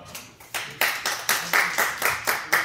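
An audience of teachers at a church student vision worship service claps in slow, spaced bursts, about eight distinct claps or clusters in a steady rhythm, fairly close and moderately loud, with no talk.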